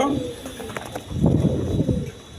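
Lahori pigeons, a pair kept for sale, give low throaty coos close by, swelling into a louder rolling burst midway, while someone talks over them.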